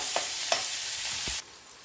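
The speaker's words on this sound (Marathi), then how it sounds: "आता आपण चांगला भाजून घ्यायचं कांदा" Onion slices frying in a pan give a steady bright sizzle, with a few short scraping stirs, before the sizzle cuts out abruptly near the end.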